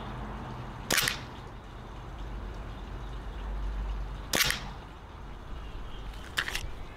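A WE G17 gas blowback airsoft pistol fires three sharp, close shots, spaced irregularly, with the last two quick and doubled, over a steady low background hum and no talking.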